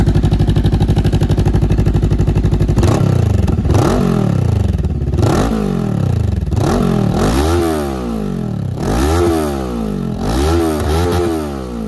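A Voge 525RR motorcycle with its silencer cover removed idles steadily, then is revved hard in a series of sharp, loud throttle blips that climb and fall back, close up with no talking.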